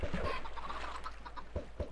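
Minecraft chickens cluck in short, soft bursts, a few scattered fowl calls spaced through the stretch over a quiet low background hum.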